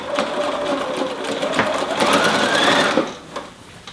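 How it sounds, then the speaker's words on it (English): A sewing machine stitches binding onto a quilt with a steady, fast mechanical chatter that speeds up and then stops, heard up close without speech. "I do my usual sewing."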